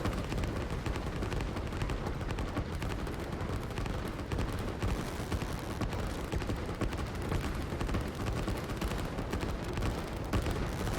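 Artillery barrages in the real-time strategy game Line War, a continuous dense rumble of overlapping distant blasts and gunfire at a steady loud level, with no talk.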